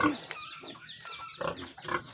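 A few short, nasal pig grunts close by, in two or three bursts, with faint background rustle.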